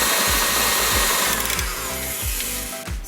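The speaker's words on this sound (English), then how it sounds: "And then mix on high for another minute." An electric hand mixer whirs on high through lamington sponge batter, its motor whine loud and close, rising and falling as the beaters are moved through the bowl.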